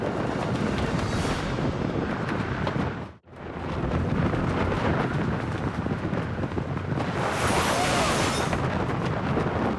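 Storm wind batters a tent in a dense, roaring, continuous rush with fabric flapping, briefly dropping out once before returning at full strength.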